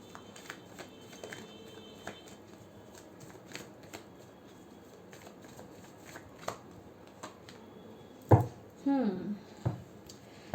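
Tarot cards are handled and shuffled with soft, intermittent flicks at close range, ending in a louder burst of riffling near the end. Faint speech is heard at the start.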